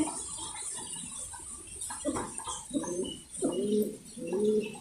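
Mundian pigeons at a pigeon farm coo in soft, throaty rolling calls that grow louder and repeat toward the end, over faint background hiss and no speech.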